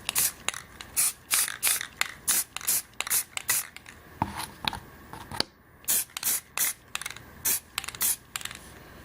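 Rust-Oleum apple red spray paint is applied in many short, separate bursts from a nearby can, each a sharp hiss of under a second with brief gaps between, and no talk.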